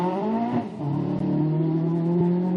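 Renault Clio rally car on a seafront stage, engine droning and revving steadily at close range with a brief shift in pitch partway through.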